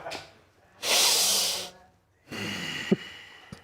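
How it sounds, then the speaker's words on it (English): A person sniffing hard through the nose, two long, loud airy inhales separated by a pause, close to the mic, the second ending in a short snort. "With the extra sniff, I like it."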